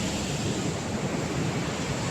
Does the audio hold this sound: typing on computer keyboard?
no